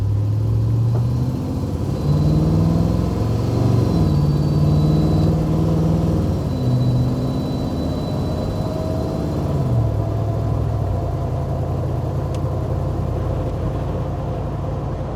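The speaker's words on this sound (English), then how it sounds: "I know it wants to scream down the road because of this V8." A V8 from an LS swap powers a 1988 Land Rover Defender, rumbling loudly and steadily as it accelerates, with rising engine tones and shifts between gears, and no talk over it.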